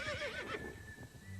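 A horse neighs, a loud close whinny with a falling, wavering pitch in the first half second, then trailing off over a steady background.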